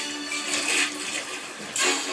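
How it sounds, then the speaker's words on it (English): Water splashes and sloshes as a fish is dropped into an aquarium tank, two broad washes of splashing separated by a brief lull, fairly close and heard alone. "Gently, Hank dropped Dory into the tank."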